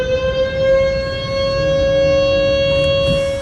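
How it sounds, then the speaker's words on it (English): A civil defense emergency siren blares through a town in daylight, one loud sustained wailing tone with harmonics holding steady and echoing, with no voices. "a man captured an emergency siren blaring through the town in broad daylight"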